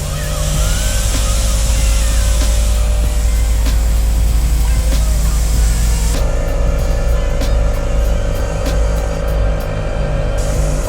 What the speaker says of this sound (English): So now we gotta air these tires up.